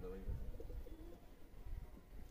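A small Malwai pigeon hen coos softly in a low, throaty, repeated murmur, close by in a quiet room.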